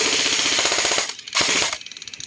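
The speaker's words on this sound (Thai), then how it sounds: "เดี๋ยวผมยิงให้ดู ครับผมยิง แบบระบบออโต้ สบาย ๆ เลยครับ ยิงไปเรื่อย ๆ ยาว ๆ เลยครับ" An electric-magazine airsoft BB gun, an M4, fires in full-auto bursts: loud rapid mechanical rattling, a short pause, another burst, then slower clicking shots near the mic.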